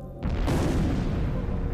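A deep, roaring explosion effect for a supernova bursts in after a brief lead-in, swelling into a loud, sustained rumble that carries on without fading.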